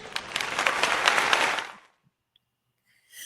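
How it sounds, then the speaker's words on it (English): A short burst of studio applause, clapping loud and dense for about a second and a half before cutting off abruptly into silence. "That does deserve a round of applause."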